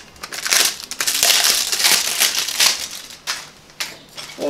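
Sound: unwrapping bicycle pedals from packaging

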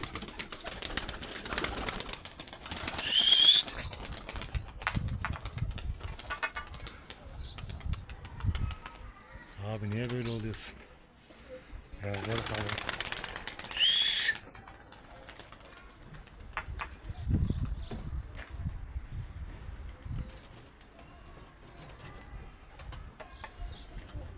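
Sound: pigeons cooing and flapping wings

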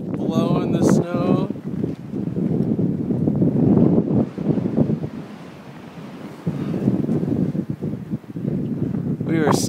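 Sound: wind blowing snow on Mount Rainier

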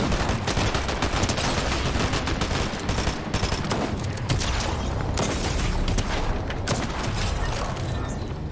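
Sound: combat shotgun gunfire in the video game Fortnite

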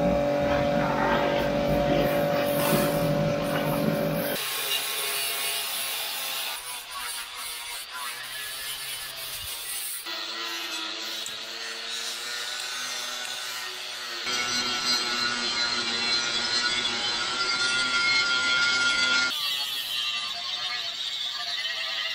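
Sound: grinding disc cutting heavy rust off trailer axles and springs

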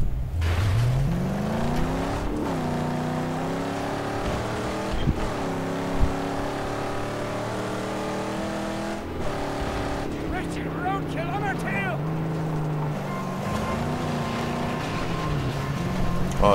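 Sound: car engine in video game Mad Max

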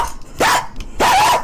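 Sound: dog barking sound effect

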